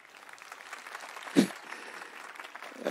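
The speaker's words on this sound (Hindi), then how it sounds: "आपकी खूबसूरत सी और बहुत हल्की हल्की धीमी धीमी सी तालियों के लिए भी बहुत आभार" Soft, gentle applause from the audience at a Hindi poetry gathering, a faint, thin patter of hands with one brief louder clap near the middle.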